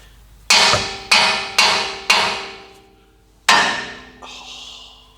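Hammer blows on a nut to free a stuck suspension part on an ARB BP51 setup: four loud, ringing metallic strikes about half a second apart, then a pause, a fifth hit and a short clank.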